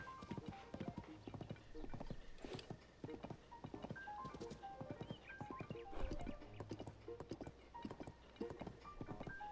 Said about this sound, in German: Pferde, hey.